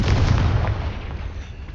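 A Confringo fire spell in Hogwarts Legacy bursts with a single deep booming explosion at the start, its low rumble fading away over the next second or so.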